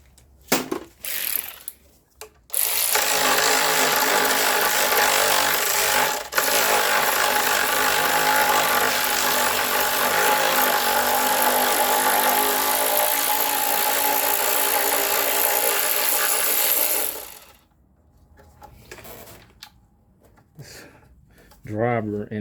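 A power driver works bolts loose from the timing cover of a Chevy 1.8L engine, a steady loud whirring run of about fifteen seconds with brief bursts before it and a voice speaking afterward.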